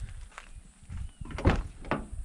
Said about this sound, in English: I'll just open this door up for Marley.